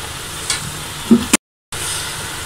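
Spices fry in ghee in a pot, a continuous sizzle with a couple of brief stirring clatters, then a sudden cut to silence before the sizzling resumes.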